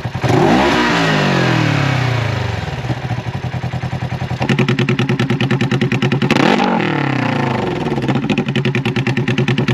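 A Polaris RZR XP 1000 UTV engine with a loud RPM 2.5-inch E-valve side dump exhaust revs hard, rising and falling, then settles into a rapid, throbbing burble before revving up again.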